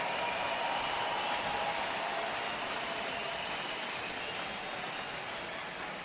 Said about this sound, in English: Let's get a nice round of applause out here for both of these warriors.